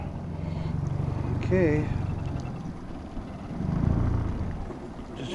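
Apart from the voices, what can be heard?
boat outboard motor running on the lake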